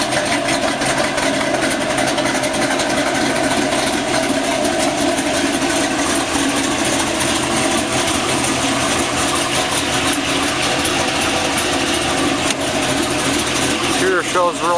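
A 2004 Pontiac GTO with a factory 6-speed idles loud and close, a steady throaty rumble that holds through the whole stretch, with someone talking over it.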